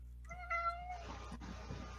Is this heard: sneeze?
no